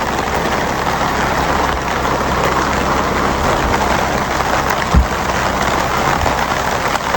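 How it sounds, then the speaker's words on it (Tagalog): Rain falls steadily in a broad, even hiss, with a low rumble underneath and one soft thump partway through. "Naulan eh."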